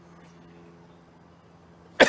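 One sharp, loud cough bursts out at the very end after near-silence with a faint low hum beneath.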